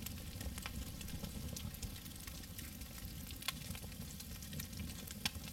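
Raw meat grilling over a fire in the SCUM survival game, a steady crackling sizzle with occasional sharp pops, fairly quiet and continuous throughout.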